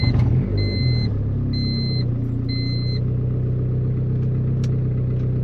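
A $500 turbo Honda Civic engine running after start-up, a loud steady low rumbling idle filling the whole clip, with a few faint high electronic beeps early on.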